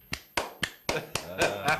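Seven sharp hand claps in a slightly irregular sequence, close and distinct, each one a crisp separate smack.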